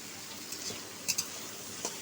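Cut potatoes being stirred in a hot pan while cooking dheki saag, a steady sizzle of frying with a few sharp scraping clicks of the utensil against the pan, close and alone.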